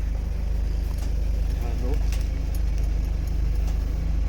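A performance car on the Nemuno Žiedas race circuit rumbles with a steady low exhaust drone, broken by scattered sharp crackles and pops from the rear exhaust, close and fairly loud.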